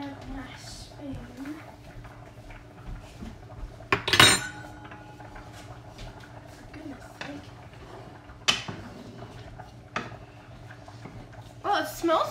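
A spoon clinks against a pot of sweet and sour meatball sauce on the stove, with a few sharp metallic knocks against quiet kitchen background and muffled voices.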